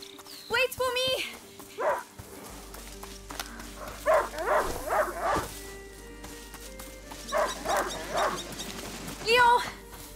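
A hunting dog in the video game A Plague Tale: Innocence barks, yips and whimpers in a string of short, close bursts spread across the scene, with a voice-like call near the start and end.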